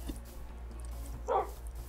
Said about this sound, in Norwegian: Jeg fikk temt meg i bikkje da